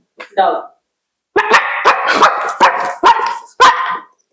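A voice imitates a dog barking, a short yip then a rapid string of five or six loud, close yappy barks.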